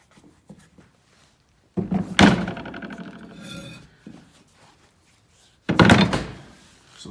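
Two dull, heavy thuds of a lead block being struck, each with a short low rumble and no ringing, separated by quiet handling noise.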